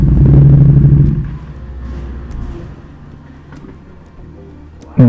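Ducati Panigale V2 motorcycle with a Bren flash tune rolls onto a dyno, opening with a loud, close engine rumble that fades to a low idle-like drone, then a sudden sharp burst at the end.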